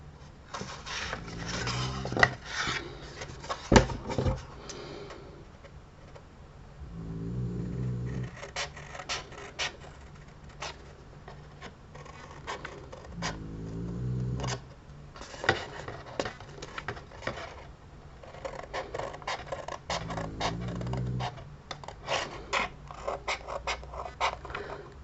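Scissors cut a paper Christmas tree card in short, crisp bursts of snipping, with paper rustling and handling sounds in the pauses. It is quiet and close, with no speech.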